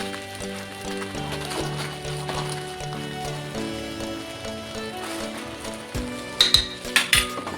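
Masala frying in a pan for veg pulao, a steady hiss of sizzling with scraping stirring strokes, ending in a few sharper clinks of a spoon against the pan.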